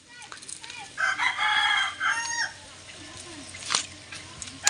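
A brooding hen crows loudly nearby, a drawn-out call followed by quieter clucks and rustling outdoors.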